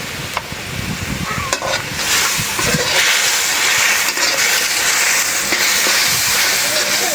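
Onions fry in a pan with chili, coriander and cumin powder as they are stirred, giving a loud, steady sizzle and hiss with scraping stirs and a voice talking briefly over it.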